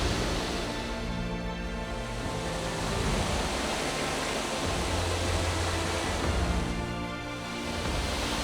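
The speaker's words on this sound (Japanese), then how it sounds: "だんだんとね、滝の音が近づいてきました。" Waterfall in the Unzen hot springs area of Nagasaki, a steady loud rushing roar of falling water heard close up with no talk.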